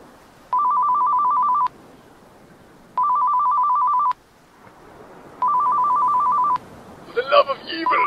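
An old telephone rings in three evenly spaced electronic trills, each about a second long, loud and clear, with a voice starting to talk at the end.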